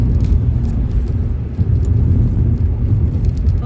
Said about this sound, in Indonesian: gini pagi-pagi kan itu banyak banget truk-truk, mobil-mobil, karena mereka kan pada bekerja